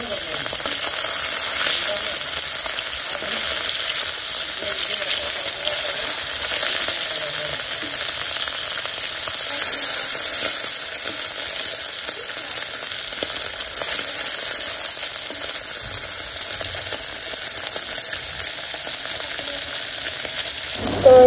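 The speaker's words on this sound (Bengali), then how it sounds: "রান্না করছি আজকে এই যে মাছ ভাজি করছি" Fish frying in oil in a pan in a village kitchen, a continuous loud sizzle and crackle holding steady throughout with no speech.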